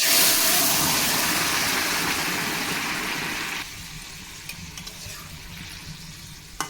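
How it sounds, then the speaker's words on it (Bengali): Curry pours into a pan of hot oil, setting off a loud, broad sizzling hiss that suddenly drops to a quieter simmer with small pops. "এখন তরকারিটা ঢেলে দেবো"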